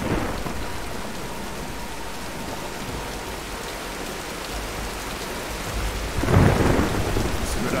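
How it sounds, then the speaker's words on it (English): Steady rain and rumbling thunder from a storm in the Tomb Raider video game, a constant wash of rainfall with a heavier thunder roll swelling near the end, no voices. "let's wait out the storm"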